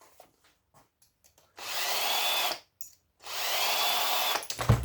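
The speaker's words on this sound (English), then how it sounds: "So get the drill." A power drill backs screws out of a scrap copper and aluminium coil in two loud whirring bursts of about a second each, separated by short pauses and preceded by light clicks and handling noises.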